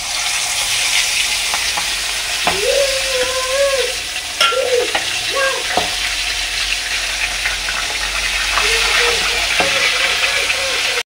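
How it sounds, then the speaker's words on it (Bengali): Fish frying in hot oil sizzles loudly and continuously up close, with some bubbling and spattering. "তেল গরম হয়ে গেছে, এখন দিয়ে দেবো মাছ"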